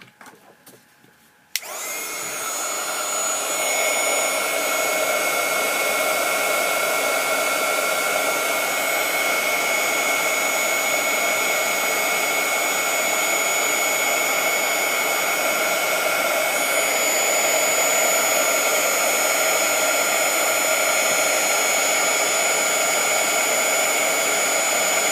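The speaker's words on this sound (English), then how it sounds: "So now I'm going to heat these powders." A heat tool switches on after a brief pause and blows continuously to melt Tea Rose embossing powder, a loud, steady whooshing hum held close for the rest of the stretch without speech.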